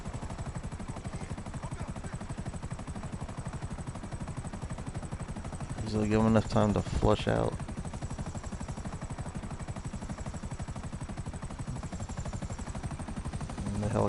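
In a PS4 video game, a helicopter drones with a steady rotor thump throughout at low volume, joined midway by a short burst of gunfire, while someone talks over it.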